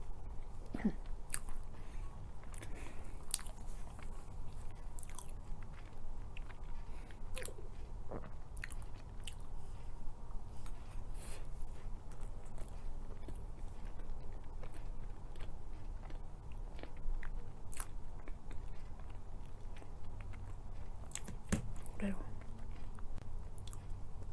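Oreo cookie cheesecake being eaten up close, soft chewing and occasional squishy bites repeating through a quiet room, with some talk between mouthfuls.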